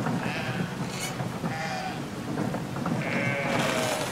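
Sheep bleating in the video game Brothers: A Tale of Two Sons, several bleats heard over a steady bed of rain and storm ambience, moderately loud with no talk.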